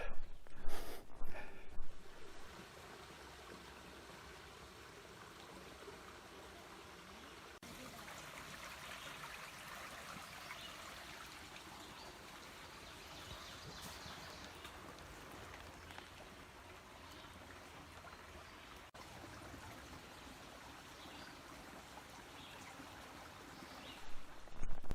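Eddington Creek on the North Country Trail runs with a steady, soft wash of flowing water, a continuous hiss of trickling current, with a few brief knocks and rustles close by at the start and end.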